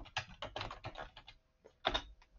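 Computer keyboard typing as a new password is entered, a quick cluster of soft key clicks followed by a pause and a couple more taps, close and quiet with no voice.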